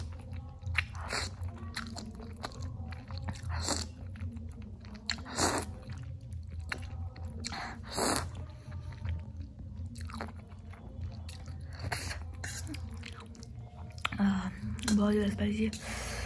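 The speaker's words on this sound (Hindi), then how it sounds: "तो आज मैं खाऊंगी स्पाइसी मैगी" Spicy Maggi noodles eaten up close, with soft wet slurps, squishy chewing and occasional sharper bites in an irregular rhythm, plus a brief airy gasp near the end, faint and intimate with no clear talk.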